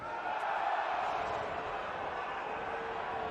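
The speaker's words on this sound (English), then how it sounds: "Crowd weren't happy with something." A rugby league crowd at a Doncaster versus Salford match gives a sustained, disgruntled roar, a dense wash of many distant voices with no clear individual calls across the short stretch.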